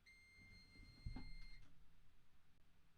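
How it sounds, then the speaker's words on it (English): A UPS battery backup unit sounds a steady, high-pitched electronic beep tone indoors for about a second and a half before cutting off, with a soft thump near the end and quiet room noise throughout. "My UPS now is beeping at me."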